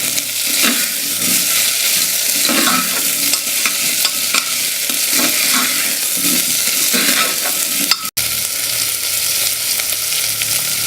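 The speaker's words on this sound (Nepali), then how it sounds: "अदुवा लसुन पेस्ट चाहिँ एकछिन हल्का बास्ना नआउँदैसम्म, फ्राई नहुँदैसम्म एकछिन पकाउनुपर्छ।" Ginger garlic paste fries in a pan for a Nepali potato, radish and soybean curry, giving a steady loud sizzle with stirring scrapes throughout and one brief dropout near the end.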